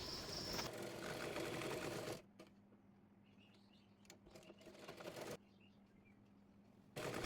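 A sewing machine stitches a kameez shoulder seam, one layer laid over the other, in a dense steady run at the start, followed by a quiet hum with scattered ticks and a second brief burst of stitching at the end.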